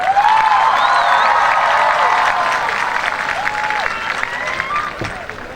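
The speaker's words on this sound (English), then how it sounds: "Give them a nice round of applause." Graduation commencement audience applauding steadily for several seconds, a dense, even wash of clapping across a large crowd, with a few scattered cheers and background voices mixed in.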